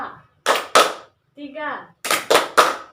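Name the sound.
hand clapping in a counting game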